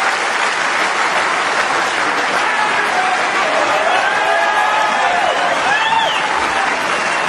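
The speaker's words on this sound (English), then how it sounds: "the crowd now realise that it's all over" A snooker crowd applauds at the end of a match, a dense, steady wash of clapping filling the hall throughout, with a commentator's voice faintly under it.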